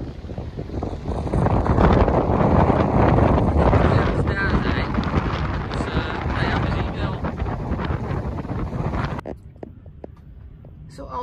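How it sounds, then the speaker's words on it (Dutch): Strong storm wind at the sea in Trelleborg, Sweden roars and buffets the microphone continuously, with rough broadband rushing that drops off sharply near the end, leaving quieter background. "we zitten midden in de storm"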